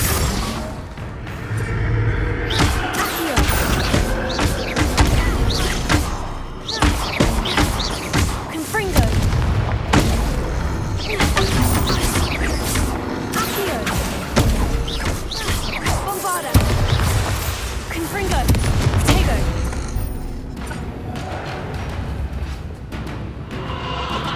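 Bombarda and Confringo explosion spells burst in Hogwarts Legacy, a long barrage of loud booms, crashes and thuds in quick succession, with a voice heard amid the blasts.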